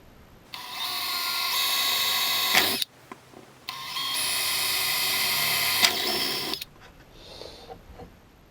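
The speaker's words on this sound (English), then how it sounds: "I'm going to drill 2 holes into the truck from here." Two long bursts of a high-pitched power drill with a 3.5mm steel bit boring into an electric skateboard truck, each lasting a few seconds, separated by a brief pause, then quieter handling noises.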